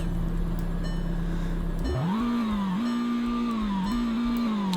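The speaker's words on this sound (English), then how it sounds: "The startup sound of the car actually isn't too bad, which is surprising." A car in the Roblox game Greenville starts up. A steady low drone cuts off, then the engine catches and settles into a rising idle hum with small wavering shifts in pitch, clear and unaccompanied.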